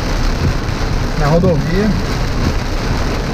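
Steady, dense rain noise fills the whole stretch, with a brief voice speaking over it near the middle.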